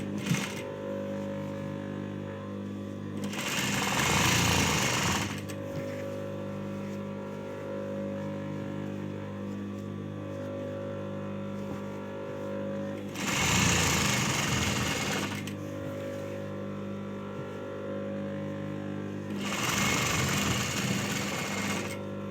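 Bursts of a sewing machine stitching a gota-work A-line dress whir in three short runs, each a few seconds long, separated by quiet stretches with a steady low hum.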